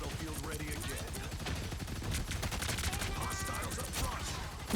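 Continuous rapid gunfire in the Marvel Rivals game, aimed at Groot's walls, a steady stream of shots at moderate level that persists throughout.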